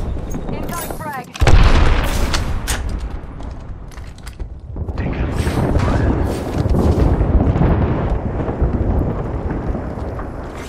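A frag grenade goes off in the battle royale shooter Apex Legends, a loud sudden boom with a heavy low-end blast that rolls into sustained rumbling gunfire and combat noise, with in-game voice callouts over it.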